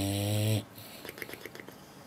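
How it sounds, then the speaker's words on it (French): One loud, long snore from a person, a buzzing in-breath that stops abruptly. Faint soft clicks and rustles follow in a quiet room. "Ronfler en travaillant."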